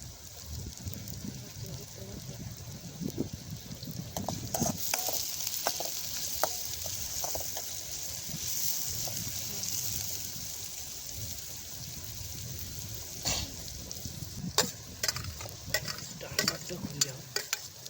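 Chopped onion frying and being stirred in a pan over an open fire outdoors, a steady soft sizzle with scraping stirs and clicks, while people talk nearby.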